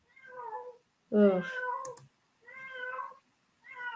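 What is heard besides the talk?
cat crying outside a window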